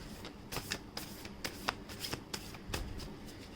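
Tarot cards being shuffled in a run of crisp riffling bursts, close and fairly quiet, with no talking over them.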